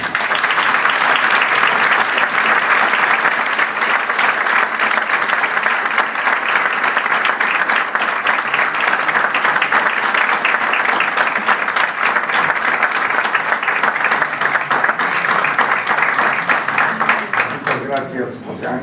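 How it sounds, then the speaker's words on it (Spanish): A seated audience at a book launch on real estate acquisition tax applauds for a long stretch: dense, even clapping from many hands holds at full strength throughout and begins to thin only in the final seconds. "Les pido un aplauso"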